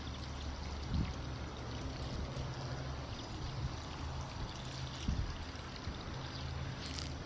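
Water is poured onto newly planted leeks in a garden bed, a steady gushing trickle over soil with a couple of soft splashy surges, moderately quiet and without speech.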